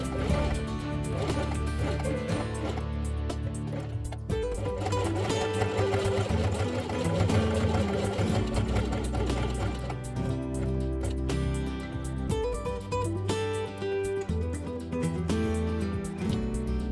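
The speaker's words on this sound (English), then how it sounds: "sew only the top and bottom edges from this point to this and the same below from here to this" A sewing machine stitches fabric with red thread while making a Christmas quiet book snowman page, giving a continuous close mechanical whir and rapid rhythmic clatter with brief pauses and speed changes across the span.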